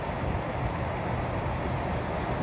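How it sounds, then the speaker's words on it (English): Steady, even broadband whoosh of a Tesla's cabin ventilation fan running continuously during auto-ventilation, with no voices or other sounds. "That is the sound of the ventilation fan for the passenger compartment running."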